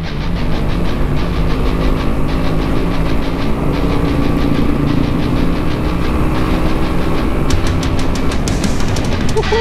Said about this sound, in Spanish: aquí les traigo la GSX-S150 de Suzuki. Es un motor de 150 centímetros cúbicos DOH